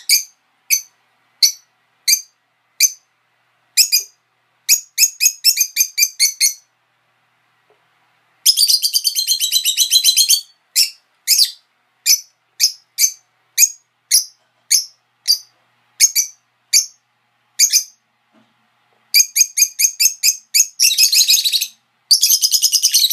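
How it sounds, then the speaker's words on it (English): Pet birds in a cage chirp back and forth, bright high tweets coming in quick single calls and rapid bursts with short silent gaps, close and clear with no talking. "they just sit here and chirp back and forth to each other"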